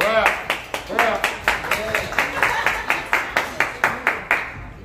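Rhythmic clapping of a few hands, around fifteen sharp claps at a steady, brisk beat, close and distinct, with voices talking underneath.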